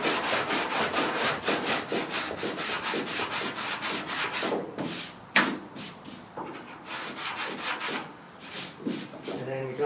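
Dura-Block sanding block rubbed back and forth across a car body panel with 80-grit paper, rhythmic rasping strokes close and loud, briefly pausing before resuming the steady scratching pattern.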